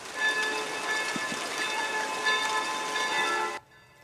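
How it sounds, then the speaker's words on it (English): Church bells ring across Prague during a Czech national day of mourning, a dense, steady metallic peal with sustained overtones filling the air for several seconds before cutting off abruptly. "Bells rang across the capital as people stopped for a moment of silence"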